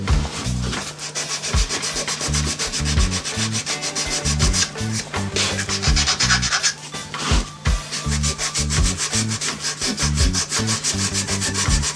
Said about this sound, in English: I always turn the chisel upside down so that it doesn't dive into the wood.